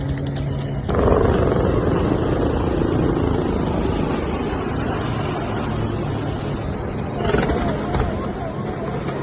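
Military naval helicopters roar loudly and continuously overhead during a midair formation rehearsal, a dense rotor drone with crowd murmur beneath it.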